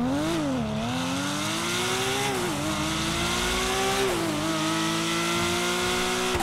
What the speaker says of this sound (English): Let's hear how that exhaust sounds.